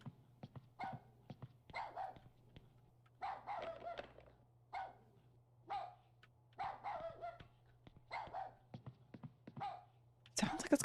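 A dog barks repeatedly in the horror video game Rule of Rose, with bursts of several barks every second or two, medium-near and fairly loud over a low steady hum.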